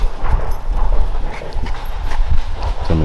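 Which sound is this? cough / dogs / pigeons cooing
dogs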